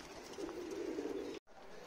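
Pigeons kept for tumbler flying and handover, cooing softly in a continuous low murmur close by, broken by a brief silent gap near the end.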